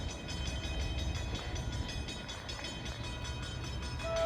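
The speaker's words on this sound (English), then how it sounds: "Here comes another PL42AC, the New Jersey's only Alstom Primal diesel" An NJ Transit Alstom PL42AC diesel passenger train rolls through Anderson Street Station in the rain. A steady low rumble and rhythmic wheel clatter build, swelling louder toward the end.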